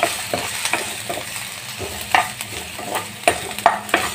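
Onions and spices frying in a pan for a masala matar dish, a steady sizzle broken by several sharp scraping stir strokes, close and moderately loud, with no talking.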